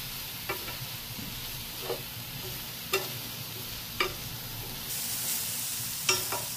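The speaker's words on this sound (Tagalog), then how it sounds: "And then, we're gonna add our chicken." Chicken pieces stir-fried in a pan for Filipino chicken dinakdakan, a steady sizzle under a few sharp scrapes and clacks of a utensil against the pan, spaced about a second apart.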